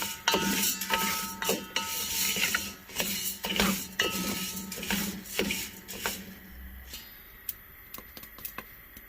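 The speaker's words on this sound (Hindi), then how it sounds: "ये देखिए इसमें से आवाज़ आ रही है ना आपको, ये गंदम भूनने के बाद" Wheat being roasted and stirred in a pan for flax seed laddus. Repeated close scraping and rattling clinks sound busy and continuous at first, then thin out to fewer, quieter taps.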